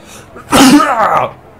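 A single loud sneeze up close, a quick sharp intake followed by a forceful burst, then silence.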